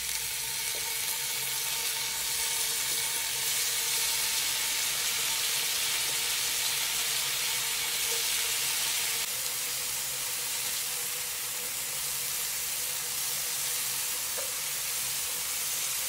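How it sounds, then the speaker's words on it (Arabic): Halloumi cheese frying in a hot pan, giving a steady, bright sizzling hiss that fills the clip evenly with no speech, the frying holding at a constant level throughout. "هيك حمية المقلاية، رح نبلش نقلي الحلوم"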